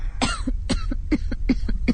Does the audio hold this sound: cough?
yes